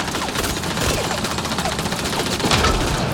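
Rapid automatic gunfire from a combat firefight in the video game Mass Effect: Andromeda, dense bursts of shots and impacts crackling continuously at close range.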